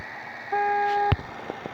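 Car horn in a racing-style driving game, a Mercedes Vito minivan used as a luxury taxi: one sustained steady tone of about half a second, ending with a short thump, then a couple of faint ticks.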